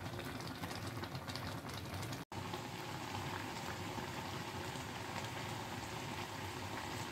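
Homemade chutney simmering in a pot, a continuous close bubbling and popping boil with a brief dropout partway through, no talking.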